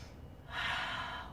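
A single audible exhale during a yoga flow, a soft breathy rush of air that swells and fades over about a second, close to the microphone in a quiet room.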